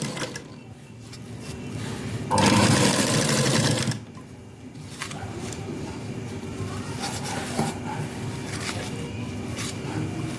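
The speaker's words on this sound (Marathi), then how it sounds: "अशा प्रकारे इथे ठेवून आपल्याला वरून टिप मारून घ्यायची आहे" A sewing machine topstitches a collar dress with a loud, fast whirring burst of about a second and a half, followed by quieter handling sounds and a low background hum.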